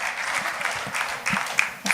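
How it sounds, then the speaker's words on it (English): A crowd at a hosted event for cricketer Shikhar Dhawan gives a round of applause, steady clapping with a few sharper individual claps near the end. "let's have a huge round of applause for Shikhar Dhawan"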